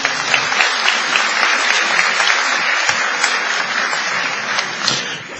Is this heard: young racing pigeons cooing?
no